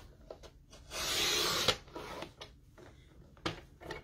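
A paper cutter slices along the white edge of a sheet being trimmed down for a card, heard as one close, steady half-second rasping swipe with a few small taps and handling clicks around it.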